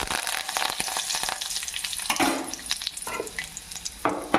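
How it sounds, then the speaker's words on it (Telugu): Tempering of dal, cumin, mustard seeds and curry leaves frying in oil for ridge gourd curry: a dense, crackling sizzle with scattered pops and an occasional stir, moderately quiet and steady. "వీటిని కొంచెం దోరగా వేయించుకుందాం"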